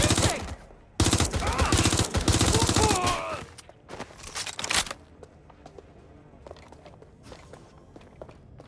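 Video game gunfire in Watch Dogs Legion, London: a loud burst of rapid automatic shots up front, then scattered fainter shots and thuds trailing off into quieter background.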